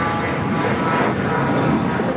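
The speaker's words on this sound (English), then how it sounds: "This is a Cessna Citation Latitude taking off to Toluca" A Cessna Citation Latitude business jet takes off at Los Angeles airport, a steady, fairly loud broadband jet roar that holds evenly throughout.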